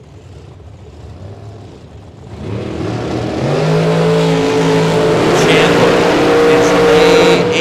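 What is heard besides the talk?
wing dragster drag racing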